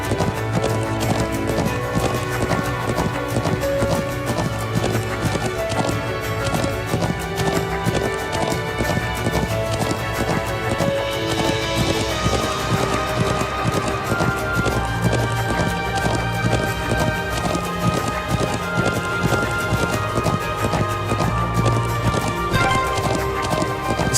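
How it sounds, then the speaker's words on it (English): Hooves pound in a steady, driving galloping rhythm throughout in The Legend of Heroes: Trails of Cold Steel II, close and continuous over a busy background. "I'm glad I still remember how to ride a horse."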